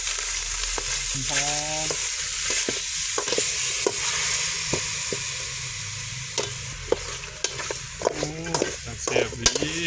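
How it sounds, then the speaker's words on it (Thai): Pork, including three-layer belly, stir-fries in a hot pan with a constant sizzle and repeated sharp scrapes and clanks of the spatula, while a voice speaks briefly over the cooking. "มาคั่วหมูก่อนพี่น้อง"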